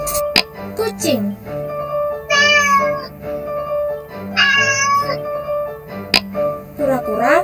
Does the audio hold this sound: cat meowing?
yes